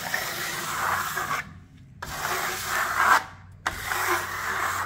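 A steel trowel is drawn over decorative plaster to smooth the raised ridges on a loft-style wall, giving two steady rasping rubbing strokes separated by brief pauses, close and moderately loud, with no talk.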